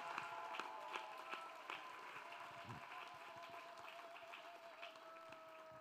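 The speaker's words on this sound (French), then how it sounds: "Let us clap." A congregation claps together during a bilingual French-English church service, a faint, steady patter of many hands with no one speaking over it.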